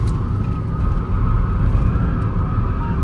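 Steady road and tyre roar from a moving Audi A3, a dense, continuous low rumble with a faint whine above it, no talking.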